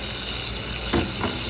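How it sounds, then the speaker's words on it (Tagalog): Noodles and cabbage frying with tomato and onion in a hot pan give off a steady sizzle, broken by two quick stirring scrapes near the end. "Yan, haluin natin."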